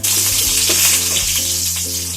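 Onions fry in a pan for pansit bihon, giving a loud, steady sizzle close up with faint stirring beneath it.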